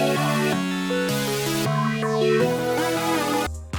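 A synth melody played in FL Studio by two alternating lead sounds, bright and sustained, moving through stepwise notes in even phrases before ending with a short deep hit.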